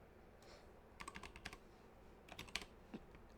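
Keystrokes on a computer keyboard, a few scattered clicks then a quick burst of typing and two more taps, close and fairly quiet with no talking.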